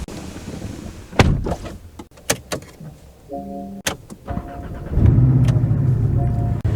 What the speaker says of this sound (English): and then the key thing to turn the car on.